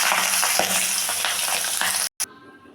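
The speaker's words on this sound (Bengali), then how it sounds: "তেলটা গরম হয়ে গেছে, এখন আমি মাছগুলো ভেজে নেব" Pabda fish frying hard in hot oil, a dense, loud crackling sizzle that runs steadily, cuts out briefly near the end, then resumes more thinly.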